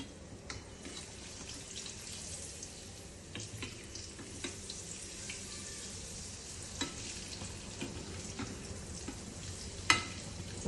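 Tapioca pieces coated in semolina fry in a pan with a soft, steady sizzle and light crackle, broken by a few small clinks and one sharp tap near the end; no one speaks.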